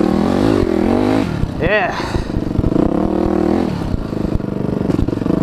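A motorcycle rides around a yard, its engine droning loudly and close with a rising rev in the middle, while someone talks over it throughout.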